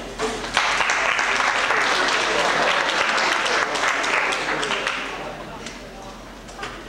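A 1994 basketball banquet audience applauds in a loud, dense burst of clapping that holds for several seconds before tapering off, with a voice speaking over it.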